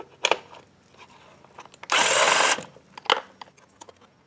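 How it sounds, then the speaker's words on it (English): An 8mm bolt being removed from the battery strap of a Honda CRF110, with a loud, steady burst of power-tool whirring in the middle and a few sharp metallic clicks and knocks before and after. "to get this strap off holding the battery in, you just need to remove this 8mm bolt here"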